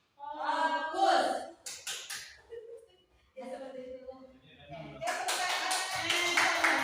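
Rhythmic classroom clapping game called tepuk fokus, sharp patterned hand claps punctuating a teacher's speech and children's chanted responses, with loud sustained group voices toward the end.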